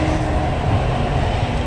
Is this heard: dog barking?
no